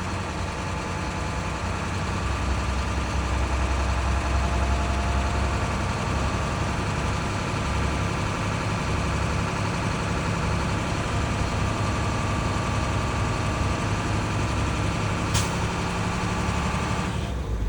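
A truck's diesel engine idles steadily at a raised speed, building air brake pressure; the low, continuous rumble holds at an even level throughout, with a brief faint click near the end.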